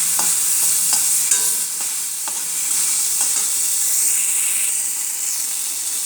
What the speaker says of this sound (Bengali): তো অল্প পরিমাণে এরকম আমি ভেজে নামিয়ে নেব।